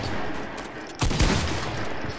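A burst of gunfire in the Fortnite video game cracks out suddenly after a quiet stretch, a short rapid volley over steady background game noise.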